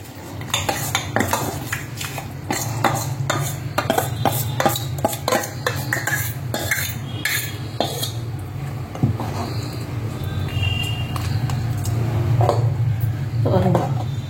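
Cooked toor dal and moong dal go into a pot and are mashed, giving repeated clinks and scrapes of a utensil against metal along with soft squishing, steady and close, while a person talks over it.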